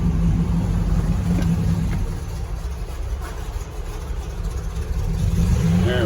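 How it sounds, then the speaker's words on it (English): A 1963 Oldsmobile F85 Cutlass engine idling cold just after starting, a steady, loud low rumble with slight unevenness in its pulse, heard close throughout with no talking. "she settles into a nice little idle"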